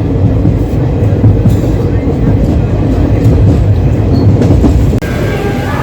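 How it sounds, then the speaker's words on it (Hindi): Coromandel Express train at Khurda Road Junction in Odisha, a loud continuous rumble of rail cars rolling close by with a steady wheel roar and faint clatter, voices faintly mixed in. "ये है खुर्दा रोड जंक्शन और कोरोमंडल एक्सप्रेस यहाँ पहुँच चुकी है"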